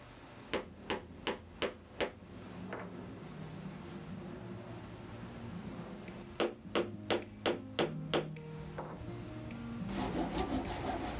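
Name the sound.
hammering wooden pins into place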